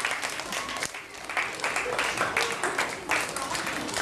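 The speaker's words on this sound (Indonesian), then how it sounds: "tepuk tangan untuk penampilan dari kelompok 1" An audience claps for a children's drama group performance, dense continuous applause at close range that swells and dips over a few seconds, with voices mixed faintly into the clapping.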